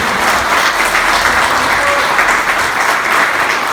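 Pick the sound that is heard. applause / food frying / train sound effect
applause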